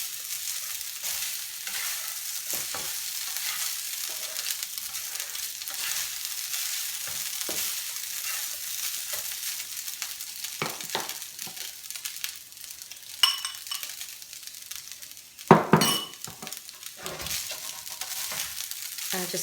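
Rubber spatula stirring quinoa into an acorn squash filling in a pan, giving a steady soft scraping and sizzling hiss with a few louder clatters near the end.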